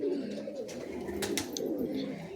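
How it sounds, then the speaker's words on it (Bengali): Giribaj and Benares pigeons coo in a steady low murmur that runs throughout, close by, with faint clattering sounds on top. "বেনারসের পায়রা দেখতে পাচ্ছেন"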